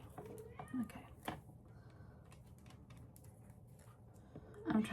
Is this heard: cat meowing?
yes